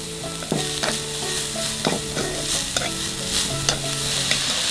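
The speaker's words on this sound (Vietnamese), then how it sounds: "Giờ mình cho củ cải vô mình xào luôn." Carrot and white radish stir-fried in a hot pan with shallots and garlic: a steady sizzle broken by repeated scraping and clanking of a spatula tossing the vegetables, no voices.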